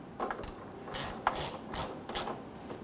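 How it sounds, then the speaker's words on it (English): A ratchet tightens the interior door handle screw on a 2007-2021 Toyota Tundra, giving about four short bursts of rapid metallic clicking, close and fairly quiet, with no voices. "we can now tighten down the screw on the inside"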